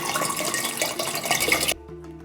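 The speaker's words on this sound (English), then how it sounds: "So I'm going to pour a liter of the distilled water into the lye solution" Distilled water, about a liter, is poured into a lye solution in a glass container, making a continuous splashing pour that stops abruptly, leaving a faint low hum.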